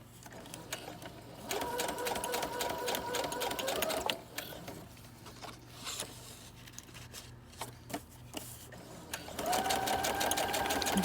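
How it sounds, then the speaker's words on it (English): A sewing machine stitches fabric in two long steady bursts of rapid mechanical chatter, with a quieter pause of handling and clicks between them, close and fairly soft. "watching somebody fumble around on their sewing machine"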